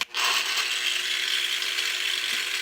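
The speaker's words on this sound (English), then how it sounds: "Then I'm going to come in, again, variable speed grinder on the slowest setting." A variable speed angle grinder on its slowest setting cuts a stainless steel Schluter tile profile guided by a wood block, giving a steady, close, harsh rasping whine that holds evenly throughout.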